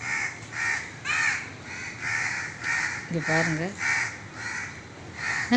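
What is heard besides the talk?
crow cawing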